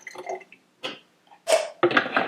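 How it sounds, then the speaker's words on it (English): Water is poured into the boiler of an inexpensive espresso machine in short splashy bursts with brief pauses between them, close and fairly clear, with no voices. "we'll go ahead and pour it into the boiler"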